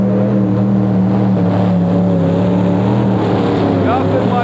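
Multi-engine modified tractor with three engines pulling at an indoor tractor pull at the Capital Center in Landover, 1991, a loud sustained droning roar that rises slightly near the end, with an announcer talking over it.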